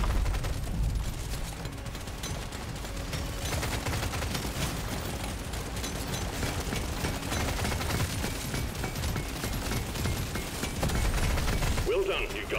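A smart pistol in Deep Rock Galactic: Survivor fires in dense, continuous rapid volleys mixed with game effects and a steady wash of noise, with a voice talking over it.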